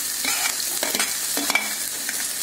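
Onions sizzling in hot oil with a few stirring scrapes, crackling steadily and close by, no voices.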